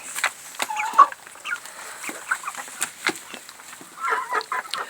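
Chickens on a broiler-raising farm give scattered, soft clucks and short calls at close range, with no talk over them.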